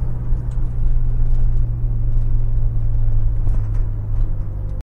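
A diesel car running on cooking oil fuel cruises along the road with a steady, loud, low engine drone and road rumble, continuous and close from inside the cabin, cutting off abruptly at the end, with no talking.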